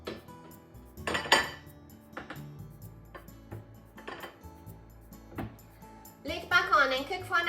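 Metal lid set back onto a frying pan holding a cabbage omelette on a home kitchen stove, heard as light clanks and clinks among other kitchen handling noises, ending in a louder cluster of rattling clatter.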